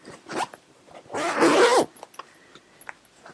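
A zipper on the center pocket of a handmade yarn bag is pulled in one quick, rasping run lasting under a second, with a few light clicks and handling sounds around it and no talking.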